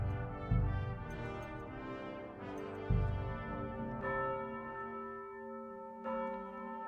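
Monastery church bells in Kingdom Come Deliverance 2 ringing loudly in a slow sequence of heavy strikes, each leaving a long ringing decay that overlaps the next, with no voices over them.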